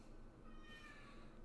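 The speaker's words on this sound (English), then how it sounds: "I'm going to go see what my cat's meowing at." A cat meowing indoors, faint and somewhat distant, with drawn-out cries against a quiet background hiss.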